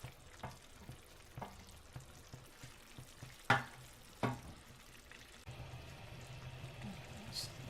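Squid going into a pan of cooked tomato sauce, frying and sizzling steadily with a few sharp clatters and stirring sounds, close and moderately loud, no talking.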